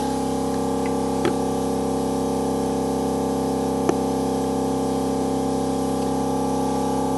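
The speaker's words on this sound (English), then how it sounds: "quite a bit of fluid getting sucked out of here" Brake fluid drawn out of the master cylinder on a 1980 BMW 528i using a compressed-air suction tool, a steady hissing rush with constant tonal hum throughout and two brief clicks.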